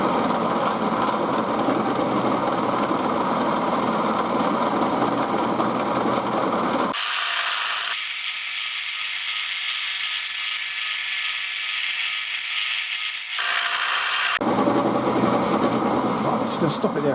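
A milling cutter machines an aluminium test part for a WW2 Morris CS8 windscreen bracket, making a steady, loud broadband cutting noise that drops away for several seconds mid-clip before resuming.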